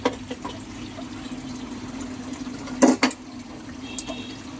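Water runs steadily into a full kitchen sink while vessels are washed, a faint continuous trickle with a couple of brief louder splashes near the middle.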